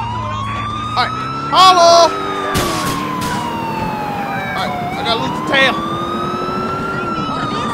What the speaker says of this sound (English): There go a police car right there.